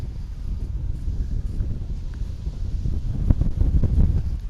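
Strong gusty wind buffeting an outdoor microphone at an airport plane-spotting spot, a loud, continuous low rumble that swells and surges in gusts toward the end.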